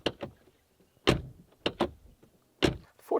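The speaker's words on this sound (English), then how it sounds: "This is what the door slam sounds like." The door of a new BMW M5 slams shut several times in a row, solid heavy thuds close by, separated by short gaps with faint latch and handling noises.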